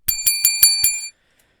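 A bell notification sound effect: five quick bright metallic dings in an even rhythm, loud and close, ringing out clean before falling silent.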